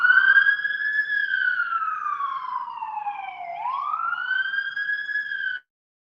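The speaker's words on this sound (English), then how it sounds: "is that siren better now, guys? It was pretty loud there for a minute." A siren wails steadily outdoors in Portland, its pitch sliding slowly down and then sweeping back up, loud and close, then cutting off abruptly.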